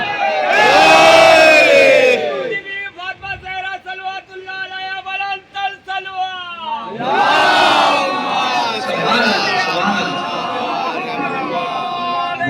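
A crowd at a Shia religious gathering loudly chants slogans in unison, with a burst of chanting, a pause filled by a single voice, then a second swelling round of massed chanting and cheering.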